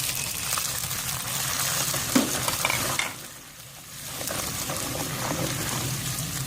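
Spice paste with red chili, salt, turmeric and ground coriander frying and being stirred in a pan for a potato and egg curry, a steady close sizzle with scraping strokes and a brief dip in the middle.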